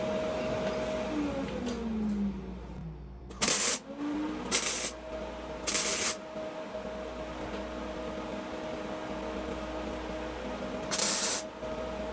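Four short, bright bursts of crackling hiss from tack welding metal tubing on a car's custom front end, each lasting about a second, spaced apart over a low steady hum.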